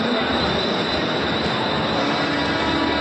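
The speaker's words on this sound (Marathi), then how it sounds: "हे छत्रपती शिवाजी महाराज रेल्वे स्टेशन आहे. खूप गर्दी आहे बघा." Inside the crowded Chhatrapati Shivaji Maharaj Terminus railway station in Mumbai, a constant loud rail roar fills the space, steady and unbroken like a train running close by, with no clear voices on top.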